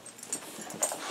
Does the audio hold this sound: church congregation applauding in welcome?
no